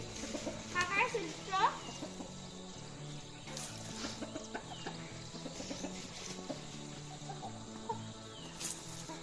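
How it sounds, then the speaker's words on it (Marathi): Chickens cluck faintly, mostly in a brief burst near the start, among background voices and the bustle of a yard. "कोंबड्या बघा आता आपल्या आवाजावर कशा येते"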